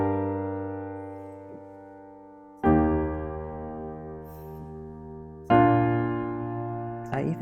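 A piano plays both hands of a song: sustained chords struck three times, each ringing out and slowly decaying, close and clear with no voices.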